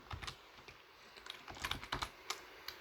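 Computer keyboard being typed on while writing JavaScript code for a Discord bot: a quiet, close run of rapid key clicks in uneven clusters, with no speech.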